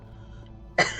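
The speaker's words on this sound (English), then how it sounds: "Why am I coughing more all of a sudden?" A person gives a single short, close cough near the end after a quiet stretch.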